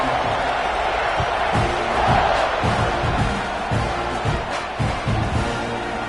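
A stadium crowd roars in the college football video game NCAA 26 before a kickoff, a steady wash of cheering with rhythmic thumps and chants running throughout, under a commentator's voice.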